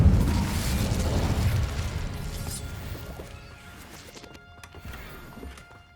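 A fiery Incendio spell cast in the Hogwarts Legacy video game bursts with a loud, dense crashing whoosh at the start, then fades over several seconds into crackling debris and lighter rattles.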